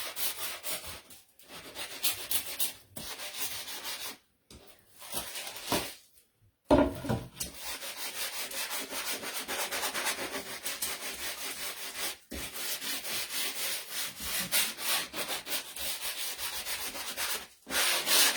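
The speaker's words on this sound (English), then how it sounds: "And I'm lightly trying to sand over this as well." Sandpaper rubbing over the edges of a wooden snowflake sign, a steady close scratchy scraping in long strokes broken by a few short pauses.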